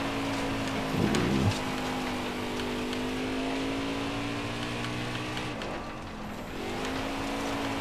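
Stock car engine in the NASCAR Heat 4 racing game: a loud, steady high-revving drone that dips briefly near the end of the clip, then climbs back up to speed through the corner. No one speaks.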